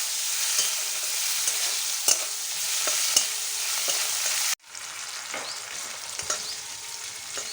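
Tomato tipped into hot oil for a vegetarian jackfruit kofta curry: a bright, continuous sizzle with scattered stirring clicks, cut off by a sudden dip, then the frying hiss resumes slightly softer.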